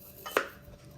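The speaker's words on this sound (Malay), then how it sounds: "kita akan potong bawang putih pula." A single knife chop strikes a cutting board while cutting garlic, one brief, quiet thud against a faint background.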